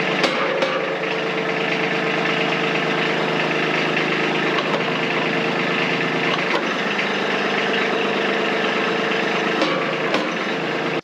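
A tractor engine runs steadily during a hydraulic range-of-motion test, a continuous loud mechanical drone with grinding, creaking undertones and a few brief knocks, with no talking.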